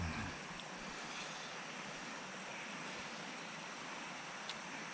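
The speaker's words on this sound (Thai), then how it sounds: "ได้ยินเสียงน้ำไหลเนาะ" Water flows steadily through a forest stream, a constant faint broadband rush with no distinct events and no voices.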